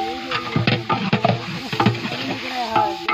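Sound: stirring chicken curry with spices in a cooking pot

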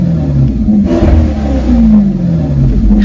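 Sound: Maserati car engine revving via the gas pedal

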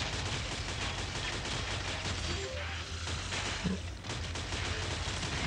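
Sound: automatic gunfire in video game Shadowgun Legends

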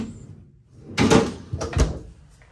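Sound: freezer drawer of RV refrigerator opening or closing

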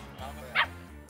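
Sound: puppies barking and yipping

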